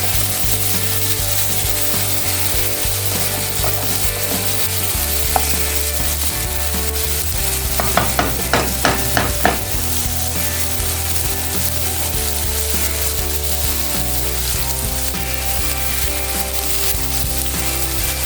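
Spice paste frying in oil for a Bengali shol (snakehead) fish curry, a steady dense sizzle running throughout with a brief cluster of scraping, clicking stirs in the middle, close and fairly loud with no talking.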